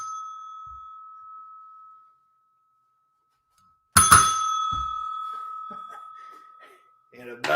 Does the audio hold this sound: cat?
no